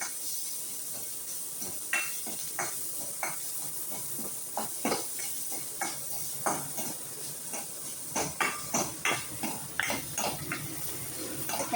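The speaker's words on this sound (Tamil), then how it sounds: "வெங்காயம் கொஞ்சம் நல்லா வதங்கணும்." Onions sautéing with salt in a pan for dried fish thokku, a steady sizzle broken by frequent spoon scrapes and clinks against the pan, close and clear with no talking.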